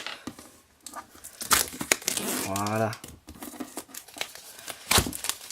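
Plastic wrapping on a card deck crinkles and tears as it is pierced and ripped open with a small compass, close and quiet, with brief speech around it.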